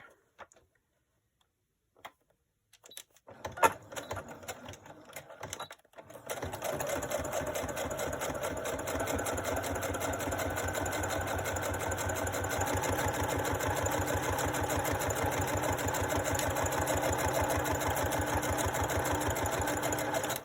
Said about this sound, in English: I'm just going to sew this real quick